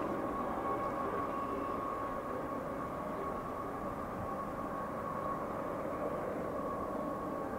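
CSX and NS diesel locomotives pushing a train backwards at notch 8 on the I-158, a steady distant roar with a droning hum that holds evenly throughout, no talking.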